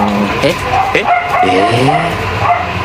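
A dog barks and yips several times close by, mixed with a person talking over it.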